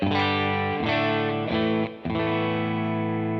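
Electric guitar through a BadCat Cub amp playing sustained chords with a cleaner, lower-gain tone, a short dip partway before the chord rings again.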